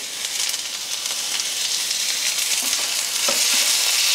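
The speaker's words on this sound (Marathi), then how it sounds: "कांदा अगदी व्यवस्थित परतल्या जाईल" Onion sautés in freshly added oil in a pan, making a loud, continuous close-up sizzle and hiss that stays even throughout, with a few faint stirring knocks.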